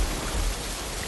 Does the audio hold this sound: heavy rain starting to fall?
yes